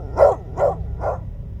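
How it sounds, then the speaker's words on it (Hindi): A dog barks loudly three times in a row at an even pace, each bark sharp and close, with a quieter low background hum underneath. "कुत्ता उस इनकी जो बंगलों की तरफ देख के बहुत ऊंची ऊंची भौंक रहा था।"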